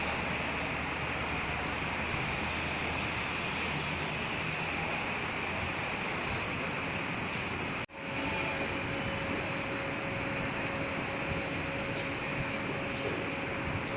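A BTS Green Line Skytrain pulls into Khu Khot station on Bangkok's elevated line, giving a steady broad rumble and hiss that runs the whole time, with a brief dip partway through and a thin tone afterward.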